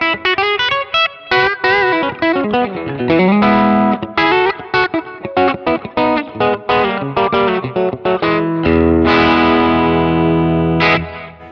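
Distorted Telecaster electric guitar on the bridge pickup, run through an effects chain: fast, loud riffs and bent notes with brief stops, ending in long sustained chords that ring out with a touch of echo.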